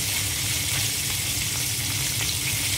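Chicken legs deep-frying in oil give a dense, constant sizzle and crackle, loud and close, steady throughout with no voices.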